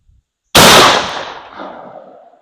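A single loud, close shotgun blast fires a Lyman .705 Foster slug at an outdoor range, a sharp crack followed by a long decaying echo.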